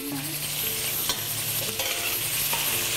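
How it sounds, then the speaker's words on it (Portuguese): Cassoulet ingredients frying in lard in a pan, a steady close sizzle with occasional stirring scrapes, continuous and fairly quiet with no talking. "nós vamos dar uma fritada nos nossos ingredientes"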